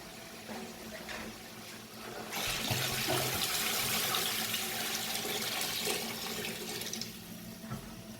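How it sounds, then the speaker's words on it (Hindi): Water is poured into a cooking pot of mutton trotters (paya), a sudden loud rushing gush that holds steady for several seconds before tapering off, close by. "अब हम इसमें डालेंगे पानी।"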